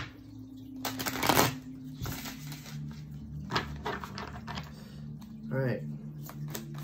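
Tarot cards are shuffled in several quick riffling bursts, a crisp fluttering patter that comes and goes over a faint background hum.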